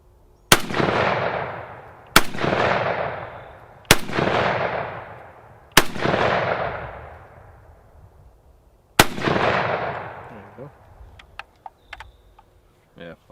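Military surplus rifle fired at an outdoor range: five loud, sharp shots, each followed by a long ringing decay, spaced roughly two seconds apart, with a longer pause before the last, then a few faint clicks of the action.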